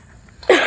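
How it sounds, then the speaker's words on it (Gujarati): A single short, sharp cough bursts out close and loud at the end after a brief quiet stretch, from someone outdoors during heavy rain. "હવે તો ખાંસી બહુ થઈ ગઈ છે."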